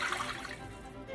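About two cups of water pour into a cooking pot for homemade chicken and dumplings, a soft, steady splashing stream heard close and quiet.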